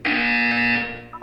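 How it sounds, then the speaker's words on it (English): A loud electronic buzzer in the Portal 2 video game gives one sustained, harsh tone for about a second and then cuts off abruptly, heard alone. "You will hear a buzzer."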